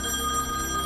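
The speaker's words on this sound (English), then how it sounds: "For a second I thought that was my phone." A telephone rings in The Wolf Among Us video game, a steady electronic ring sustained for the full second at moderate loudness with no talk over it.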